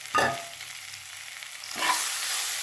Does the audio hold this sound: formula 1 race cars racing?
no